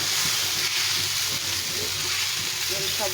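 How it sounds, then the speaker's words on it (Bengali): Pasta sizzles in a pan while being stirred, a dense, steady frying hiss with faint scraping underneath, close and continuous throughout. "এখন একটু ভালো করে নাড়াচাড়া করে নিতে হবে"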